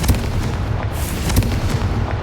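Confringo fire spell explosions in a Harry Potter video game burst in a few dull, booming hits over a steady rumbling background, moderately loud.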